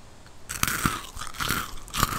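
Close, loud crunching and chewing of Minecraft-branded breakfast cereal, several crisp bites at a steady rhythm with no talking.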